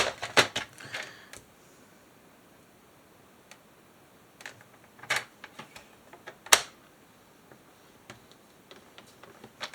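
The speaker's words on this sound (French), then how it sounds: "Donc je vais m'utiliser mon massicot." Paper trimmer slicing paper for a scrapbook album page, heard as sparse sharp clicks and short cutting snaps close up, separated by quiet gaps.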